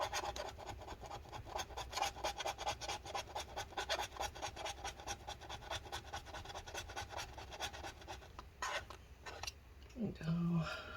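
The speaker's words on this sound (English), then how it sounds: "Scraping off all this adhesive." Rhythmic scraping as adhesive is worked off the battery of a 2012 15-inch MacBook Pro A1398 during a repair, repeated close strokes throughout, ending with a brief handling clatter.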